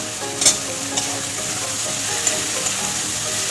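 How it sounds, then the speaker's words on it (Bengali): Five pieces of sour mango sizzle in spice masala fried until the oil separates, making a loud, continuous hiss with a few sharp pops near the start and no voices. "এবার দিয়ে দেবো এখানে 5 টুকরো কেটে রাখা আম"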